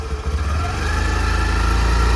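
A Honda Activa scooter engine idles close by with a steady, low putter that settles into an even rhythmic hum.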